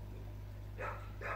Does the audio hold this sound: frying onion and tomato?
no